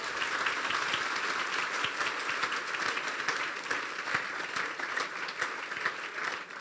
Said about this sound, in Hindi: तो बजा दे यीशु के लिए ताली।